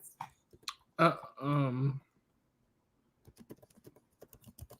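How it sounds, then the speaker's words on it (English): Typing on a computer keyboard gives quick scattered clicks, first in a short burst and then a denser run near the end, with a brief voiced hum in the middle. "Sorry, I was typing something."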